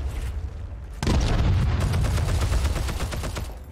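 Grenade explosions and gunfire in the video game Heroes and Generals: a sudden loud blast lands about a second in, followed by sustained rapid bursts of shots over a dense rumbling battle din, with no speech.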